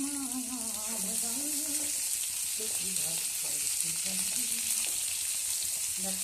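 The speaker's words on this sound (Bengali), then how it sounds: "ব্যাস এইটা আবার একটু ভাজবো দেখো" Vegetables including pumpkin fry in a pan with a steady, hissing sizzle throughout, while a voice talks faintly in the background.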